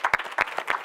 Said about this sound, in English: I think we should give ourselves a real big applause.